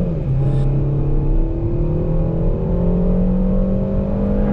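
A Peugeot 5008 crossover engine hums loudly and steadily from inside the cabin, its pitch rising smoothly as the car accelerates.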